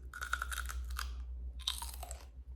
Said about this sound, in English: snacking on a bag of sugar snap peas